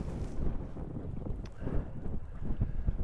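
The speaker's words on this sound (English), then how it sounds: "It's windy." Steady gusty wind roars and buffets outdoors over Lake Ray Roberts, rumbling low and continuous for a few seconds with no voices.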